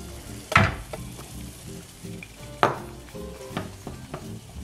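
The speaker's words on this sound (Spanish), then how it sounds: "Nada, que cuaje un poquito la tortillita, no quede ningún tropezón suelto." Leftover tortilla frying in a pan, a soft continuous sizzle broken by a couple of sharper crackling bursts and light stirring scrapes, close and moderately loud with no talk.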